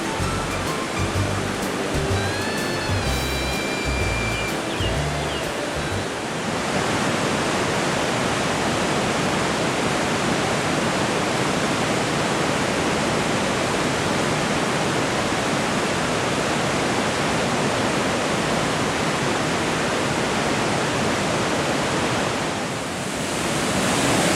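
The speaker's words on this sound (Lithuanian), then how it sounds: "Mes pakeliui prie krioklio." Steady, loud roar of a waterfall near Kaprun, Austria, a dense continuous rush of falling water filling the scene, with a brief tonal murmur of other sounds at the start before the water noise dominates.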